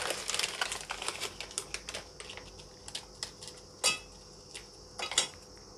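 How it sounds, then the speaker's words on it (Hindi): Oreo biscuits are broken and crushed by hand into a mixer jar, making quiet, irregular crinkling and crackling snaps with scattered sharp clicks, close and faint, with no talk. "सभी बिस्किट को मैंने क्रश करके इसमें डाल दिया मिक्सी जार में"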